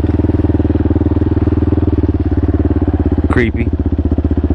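A CSC TT250 motorcycle engine runs steadily and close by with a rapid, even low pulsing throughout, while a voice briefly speaks over it near the end.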